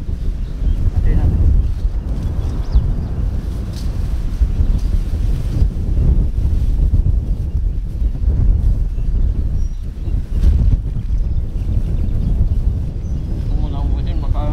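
Strong wind buffets an outdoor microphone in a steady, loud low roar with gusts throughout, while people talk underneath during an outdoor meal of boiled pork and pork skin.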